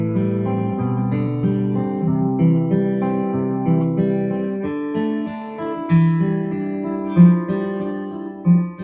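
Fingerpicked acoustic guitar warm-up, chord shapes moving up and down the neck against ringing open strings, played close and steady with a few brighter accented notes near the end.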